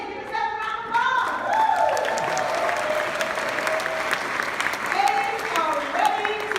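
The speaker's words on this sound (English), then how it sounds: "A's, give yourself a round of applause." Audience at a motivational group event clapping in a steady, dense round of applause, with a few whoops and raised voices rising over it.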